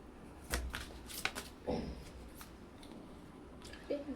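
Tarot cards are shuffled and drawn by hand, with several short crisp riffles and slaps in irregular bursts, close and quiet, with a faint voice briefly in the background.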